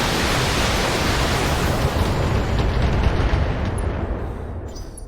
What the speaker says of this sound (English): Discharging weapons.